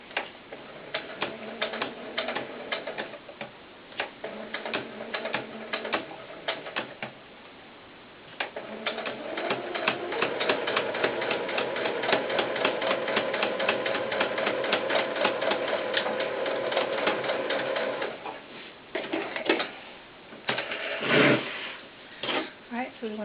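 A sewing machine stitches the corduroy brim of a doll baseball cap in rapid ticking runs, starting and stopping, with a longer steady stretch in the middle, close and moderately loud.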